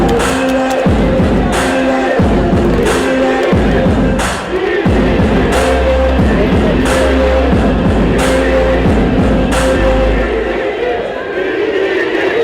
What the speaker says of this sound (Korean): 당원 여러분 큰 박수로 맞아주십시오.